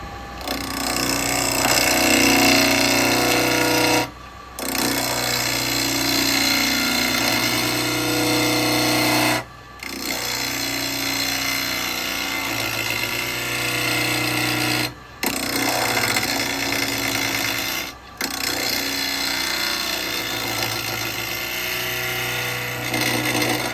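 A woodturning lathe cuts wood with a 40mm negative rake carbide tool. It makes a continuous, loud scraping whir, broken by brief pauses at irregular intervals as the cut stops and restarts.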